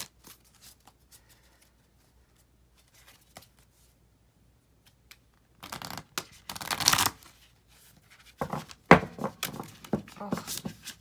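After a long near-silent stretch, tarot cards are shuffled close by in short bursts of papery riffling and slapping, with soft thumps between them and no talking.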